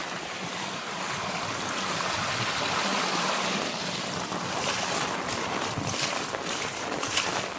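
A small monsoon-fed waterfall in the Konkan countryside, a steady rushing splash of falling water with rain, fairly faint and continuous, without speech.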